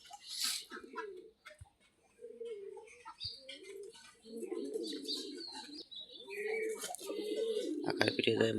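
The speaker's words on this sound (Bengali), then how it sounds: "কবুতর গুলো আবার মাটি খাচ্ছে দেখতেছি।" Pigeons on a farm cooing in repeated low, throaty bursts close by, with pauses between calls and a few light chirps and clatters near the end, under someone talking.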